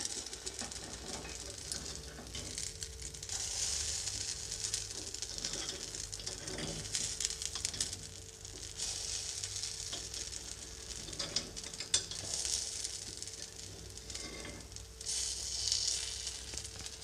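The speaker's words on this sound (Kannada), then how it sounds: "ಇವಾಗ ಪಡ್ಡನ್ನು ತಿರುಗಿಸ್ಬಿಟ್ಟು ಹಾಕ್ಕೊಳ್ತಾ ಇದ್ದೀನಿ" Paddu sizzling in a pan after being flipped, a continuous crackling fry with occasional light scrapes and clicks, steady and close, with no voices.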